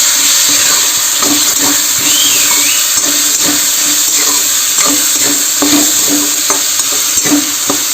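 Potatoes sizzle loudly in a pan on a gas stove while a utensil scrapes and stirs them in steady strokes, with no voice over the close cooking.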